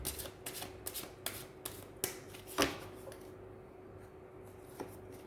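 A new Chakras Wisdom card deck is riffled and shuffled by hand, a series of crisp, close flicking bursts in quick rhythm, followed by a quieter stretch with a final soft snap.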